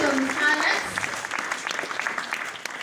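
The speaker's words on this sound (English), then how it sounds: "A clap for Alex." Graduation audience gives a round of applause for a graduate, a dense burst of clapping that fades slightly, with an announcer's voice briefly over it at the start.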